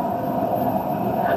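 A Dubai Metro train running, heard from inside the carriage as a steady, loud, continuous rumble and hum with no break or speech.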